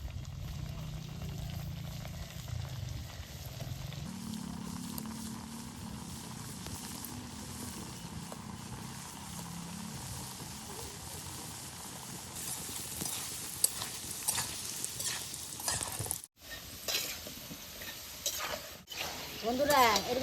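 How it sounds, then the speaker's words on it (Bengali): Atta khurma dough pieces bubble and fry in oil with a continuous sizzle and boil. Stirring and clattering happen on and off, and low rumbling sits underneath. "এগুলো সব ভাজা নিই"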